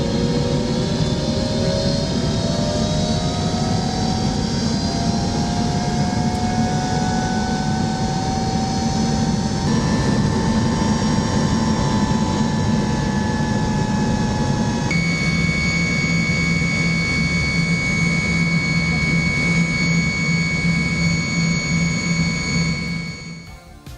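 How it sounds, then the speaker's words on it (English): Jet engines of an Air Koryo airliner spooling up after pushback, heard from the cabin: a loud, steady roar carrying rising whines and tones that change pitch in stages, with no talk, then fading at the very end. "And when the engine started, after pushback, it was like music to the ear. It was so screaming loud."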